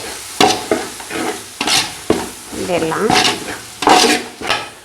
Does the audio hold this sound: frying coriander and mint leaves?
yes